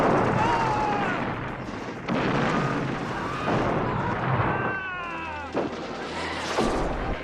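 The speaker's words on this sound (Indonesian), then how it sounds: "kantor Kolonel Ernesto Bella, tiba-tiba terdengar ledakan yang dahsyat" A huge explosion amid wartime sabotage, heard as a sustained roaring blast with rumbling and crackling debris, mixed with faint whistling tones and a few sharper bursts.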